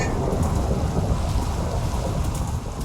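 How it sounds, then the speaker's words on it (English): A lightning strike and thunder in the Minecraft video game, a loud, dense rumbling roar layered with hissing rain that fills the whole stretch without pause or voices. "Lightning strike!"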